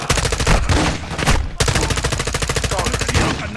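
Dense, rapid automatic gunfire from a firefight in Call of Duty Modern Warfare 2, loud and continuous with overlapping bursts and a brief break near the middle.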